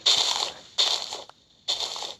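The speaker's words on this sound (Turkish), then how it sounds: "Şu yerleri bir dakika kazalım." Blocks being dug in Minecraft, heard as three loud, crunchy bursts of game breaking sound, each lasting about half a second with short silent gaps between them.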